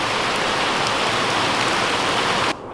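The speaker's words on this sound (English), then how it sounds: "Decided to start raining again." Steady rain falls on a homestead, a loud, dense, even hiss of drops close by that holds throughout and then cuts off abruptly near the end.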